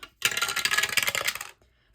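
A six-sided die is rolled during a cash-stuffing budget game, giving a close, bright clatter that rattles for about a second and a quarter before stopping, alone with no talk.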